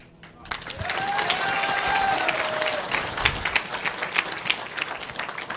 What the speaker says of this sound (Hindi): जिसने सबसे पहले ताली बजाई